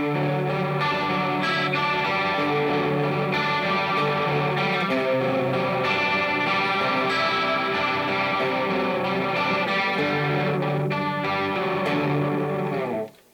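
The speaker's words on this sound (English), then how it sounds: "I think it basically stacked 3 choruses on top of each other, but it would give you cool sounds like" Electric guitar run through a tri-chorus pedal, a classic 1980s-style effect stacking three choruses, giving a lush, shimmering, wide tone as sustained chords ring out steadily and loud for the whole passage before cutting off at the end.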